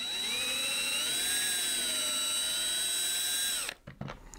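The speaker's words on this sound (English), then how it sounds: "I'm gonna go ahead and get ready to drill it" A power drill whines steadily at high speed for several seconds while drilling a pilot hole for a guitar strap button, then spins down and stops, followed by a few faint clicks.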